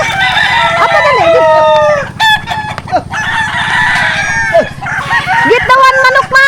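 Papa's chickens crow loudly and repeatedly at close range, with long wavering cock-a-doodle-doo calls overlapping a steady background of clucking.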